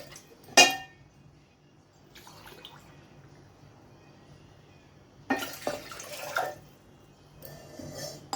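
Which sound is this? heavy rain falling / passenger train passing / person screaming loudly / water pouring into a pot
water pouring into a pot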